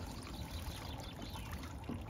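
Water trickling and pouring through a gold pan as it is tilted steeper while panning in Cromwell, New Zealand, a steady soft wash of running water close by, with no talk.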